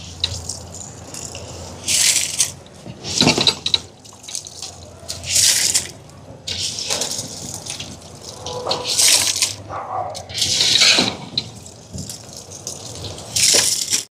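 A big pot of water with oil spread on top bubbles at a boil before rice goes in for chicken biryani cooked for an almsgiving meal in Sri Lanka, with steady churning and repeated splashy gushes, close and fairly loud.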